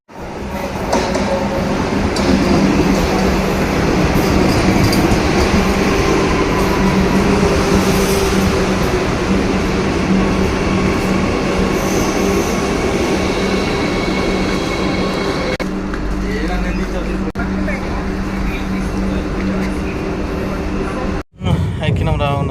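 Train on the line from Ramagundam toward Nagpur, loud steady rumble and rattle of wheels on rails heard from inside a carriage, continuous for the whole stretch with a brief sharp drop near the end.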